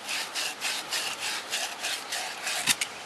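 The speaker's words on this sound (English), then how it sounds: "roughen up your copper pipe, the edges of it like that" Emery cloth scrubbed back and forth over the end of a copper pipe to roughen it before soldering, a close, loud rasping that repeats in quick even strokes, alone, ending with a brief knock.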